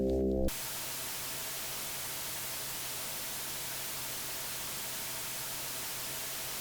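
Steady, loud television static hiss fills the whole clip, a flat broadband noise continuing without change after a brief different sound at the very start.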